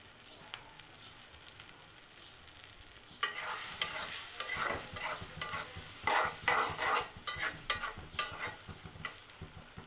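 Rohu fish roe frying in a little oil in a pan: quiet sizzling at first, then a loud stretch of continuous scraping and clinking as it is stirred, with a steady frying hiss underneath.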